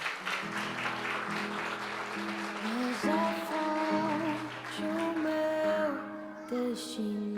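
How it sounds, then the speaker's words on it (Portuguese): A church congregation applauds during a worship service, a steady wash of clapping running under sustained music with held keyboard or organ tones throughout. "Aplaude Jesus."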